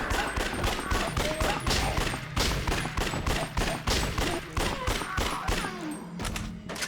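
Dense, continuous gunfire from a grenade launcher and pistols in the action game Yakuza Dead Souls, with rapid repeated shots and heavy thumps layered loudly throughout.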